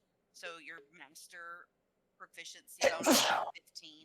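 One sharp, loud sneeze bursts out in the middle of a casual tabletop role-playing game session, with people talking just before and after it.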